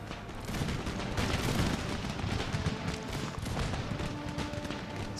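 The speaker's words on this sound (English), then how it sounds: "Okay, guys, open fire." Musket volleys crackle across an Empire: Total War battlefield in rough, continuous bursts of massed gunfire, dense and fairly loud, with battle noise layered beneath.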